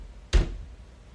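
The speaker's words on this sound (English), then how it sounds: "He hears knocking sounds coming from the basement door downstairs" A single dull knock or thump from a basement door downstairs at night, one short impact standing out from a quiet house.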